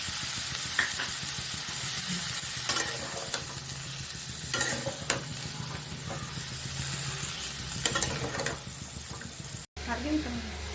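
Cauliflower sizzles in a pan with a spice mix of salt, turmeric, ground cumin and ginger: a steady, fairly quiet hiss of frying broken by occasional scraping stirs, with a brief cut near the end.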